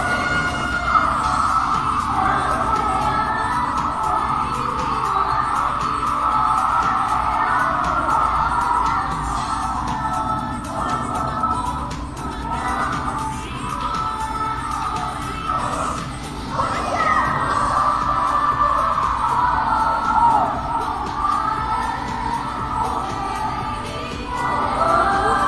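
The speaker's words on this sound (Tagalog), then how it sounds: "yung hiyaw ng mga tao" A large crowd cheers and shouts continuously during a girl group's halftime performance at the Star Magic All Star Games 2024, a dense, loud roar with scattered yells and whoops throughout.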